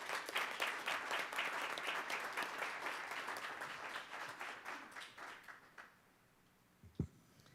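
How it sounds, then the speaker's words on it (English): A school district board meeting audience gives sustained applause for student state champions, dense at first and then tapering to scattered claps before a short thump near the end. "Let's give a round of applause for these students."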